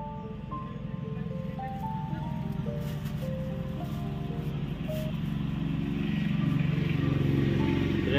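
Vehicles pass along a nearby road in steady background traffic: a continuous low engine rumble with shifting horn-like tones, growing slightly louder toward the end.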